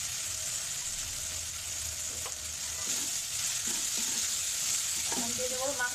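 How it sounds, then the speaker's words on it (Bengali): Spice paste with chili powder and salt frying in a pan for chicken dal, a steady close sizzle broken by scraping stirs and soft clinks of the spoon against the pan. "মশলাটা ভালো করে কষিয়ে নেব"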